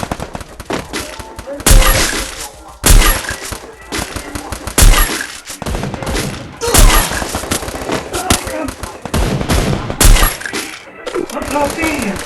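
AW sniper rifle fire in a video game, with sharp, loud shots booming at irregular intervals of roughly one to two seconds, each trailed by game clatter and busy background noise.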